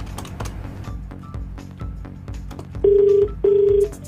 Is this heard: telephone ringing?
yes